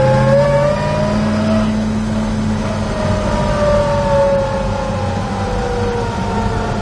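A 1964 Chevrolet El Camino engine runs steadily on the road while driving, with a loud, continuous drone and smooth rising and falling pitch from shifting engine speed. No voices are heard.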